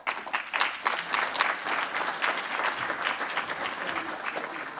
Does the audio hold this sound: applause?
yes